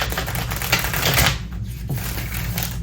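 A deck of tarot cards is shuffled by hand, giving a steady dense riffling and rustling of stiff cards for about three seconds, close and fairly loud, with no voices.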